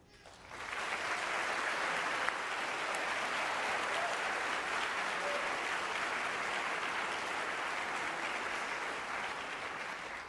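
Audience applause welcoming guests at a NASA astronaut candidate event at Johnson Space Center, a steady sustained wash of clapping from a large crowd that swells in quickly and holds for about ten seconds.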